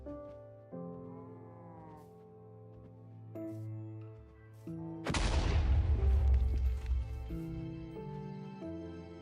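A fist strike in a video game sets off a small explosion, a sudden crackling burst midway that fades over a few seconds amid steady tonal game music and bleating-like sounds.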